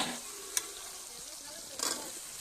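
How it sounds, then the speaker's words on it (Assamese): Oil sizzles and crackles steadily as ginger and garlic fry, with a couple of brief clinks from a utensil against the pan. "তেলতো দিছিলোঁ আদা নহৰু, ইয়াতো দিছোঁ ভাজি থাকোঁতে"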